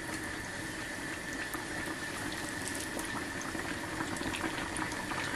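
Hot oil sizzles and bubbles steadily as food fries, a dense continuous crackle with tiny pops, close and constant, no voices.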